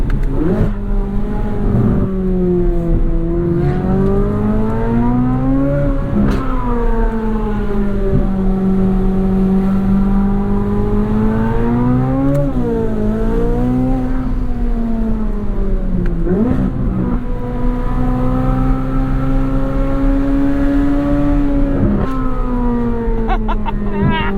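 A 2023 Chevrolet Corvette Z06 engine revs steadily and loudly, its pitch rising and falling smoothly as the throttle is eased on and off.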